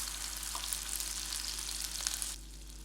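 Cumin, ginger paste and ghee sizzle steadily in hot mustard oil, a close, continuous frying hiss with faint stirring, then quieting near the end.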